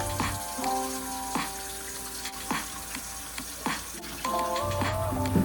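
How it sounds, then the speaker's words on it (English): Water runs steadily into a kitchen sink being filled with Blue Dawn dish soap and a splash of bleach, a continuous close rushing hiss with other tonal sounds layered over it. "Here I'm filling up my sink with the usual, with my Blue Dawn dish soap and a little splash of bleach."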